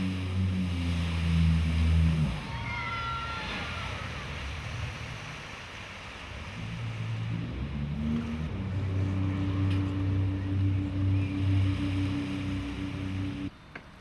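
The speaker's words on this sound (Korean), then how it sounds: "가장 먼저 눈에 띄는 것은 제트보트를 타는 사람들." Jet boats on the Waikato River in New Zealand, a loud engine roar that fades after two seconds, then returns as a steady rising drone over water and wind noise.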